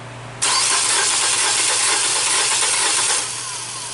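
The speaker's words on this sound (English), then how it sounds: "let's crank this vehicle and listen to how it sounds" A 2014 Nissan Versa engine cranks without catching, a steady loud whirring churn running about three seconds after a sharp onset, then dropping back to a lower background hum.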